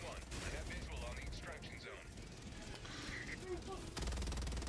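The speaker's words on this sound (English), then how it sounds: "He's just spamming the machine gun." Rapid machine gun fire in Helldivers 2 rattles steadily in a dense, noisy firefight, with a louder burst near the end and voices faintly mixed in.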